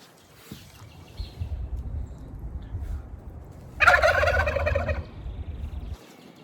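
An old tom turkey gobbles inside a chicken coop, with scattered rough calls and then one loud, drawn-out gobble close by.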